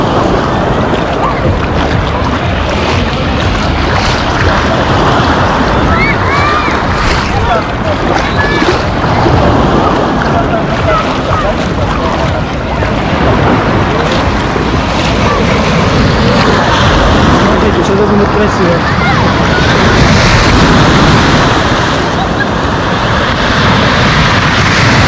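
Stormy sea waves at Lazurny beach in Lazarevskoye roll in and crash continuously, a loud, rough roar mixed with heavy wind buffeting the microphone, with a few faint calls or voices in the background.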